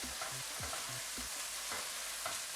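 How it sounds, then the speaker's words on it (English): Chilies and ginger sizzle steadily in hot oil in a pan, with a continuous crackling hiss broken by several soft scraping strokes of a spoon stirring the spices. "Cook for a couple of seconds to get the raw taste out of the ginger."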